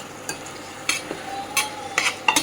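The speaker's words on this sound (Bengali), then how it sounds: "মাছের ঝোল রান্না হচ্ছে আমাদের ইন্ডাকশানে" Fish curry simmers in a pan on an induction stove while a spoon stirs it, giving several brief scraping, clinking strokes over a soft bubbling background.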